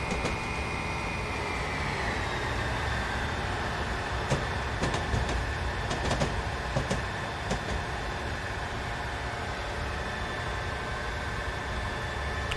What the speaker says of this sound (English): London Underground train. So this is normal overland, and that's underground.